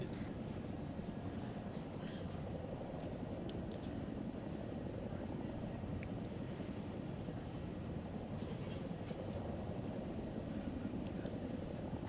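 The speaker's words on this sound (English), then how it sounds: "Oh, 2 Chinooks tonight, wow." Two Chinook helicopters in the game Arma 3, a continuous low, heavy rotor and engine rumble that stays steady and fairly loud throughout, with faint clicks on top.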